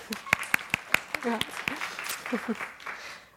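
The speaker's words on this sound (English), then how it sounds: "Thank you, everybody. Round of applause" Round of applause at a gathering, beginning with several sharp, distinct claps and spreading into looser clapping from a small group before tapering off, with brief voices mixed in.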